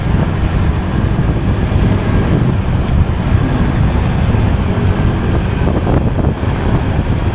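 Constant heavy wind buffeting an outdoor microphone, a loud, unbroken low roar that fills the whole stretch with no pauses.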